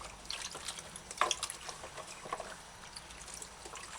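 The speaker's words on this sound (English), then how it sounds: "give herbs a final rinse in fresh water" Herbs are rinsed in fresh water, giving soft splashing and trickling with a few brief sharper swishes, close but quiet, with no talking.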